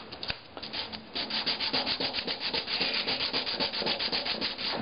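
Rhythmic back-and-forth rubbing of a wooden pinhole camera part against sandpaper to flatten its surface, steady close strokes at an even pace with no voices.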